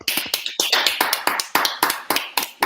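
Clapping rings out as a round of applause, with about a dozen crisp, evenly spaced claps in a steady rhythm, close and fairly loud, with no talking over them.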